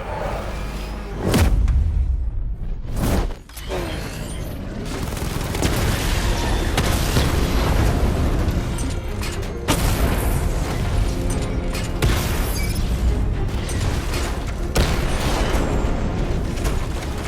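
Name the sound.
60mm tank cannon fire in Batman: Arkham Knight video game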